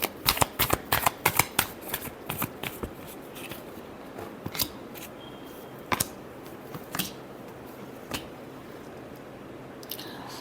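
Tarot cards being shuffled close up, a rapid run of crisp riffling snaps at first, then slower scattered flicks and taps over a quiet background.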